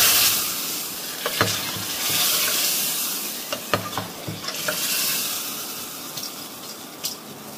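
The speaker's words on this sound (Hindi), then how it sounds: "देसी घी में मैंने लहसुन को गोल्डन ब्राउन कर लिया है और हींग डाल के छौंका लगाया है" Garlic and asafoetida sizzling in hot ghee, a steady bright hiss with a few sharp clinks of a spoon stirring the pan.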